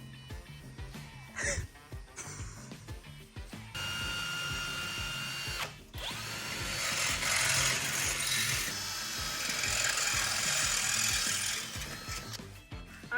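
A power drill whines steadily, boring holes through the sheet-metal floor pan of a VW Thing in several long bursts with short pauses and clicks between them.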